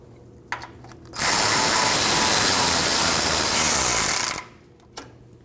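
A power tool or ratchet rattles continuously for about three seconds while driving power steering line bolts on a 2012-2021 Nissan NV2500, with faint metallic clicks just before and after the burst.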